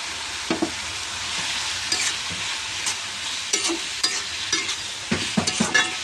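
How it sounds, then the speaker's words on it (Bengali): Small pond prawns frying in a pan with soft spring onion and tomato for a radish dish, a steady close sizzle broken by repeated sharp stirring scrapes, with no voices. "এখন আমি দিয়ে দিব চিংড়ি মাছটা"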